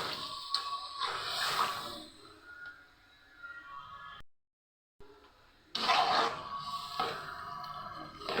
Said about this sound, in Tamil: இப்போ வந்து கொஞ்சம் நம்ம தண்ணி போட்டுக்குவோம்